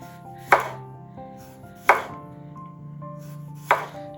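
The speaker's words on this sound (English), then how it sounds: "we're going to start by just slicing our cucumber very thin" A knife slices a cucumber very thin on a board, giving three crisp, separate cuts spaced over a few seconds, fairly close and clear, with no talking.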